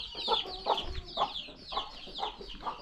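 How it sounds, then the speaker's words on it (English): Chickens cluck softly and repeatedly in an irregular rhythm of short calls, about six in quick succession, at a moderate distance. No voices are heard. "I don't know why I love these chicks."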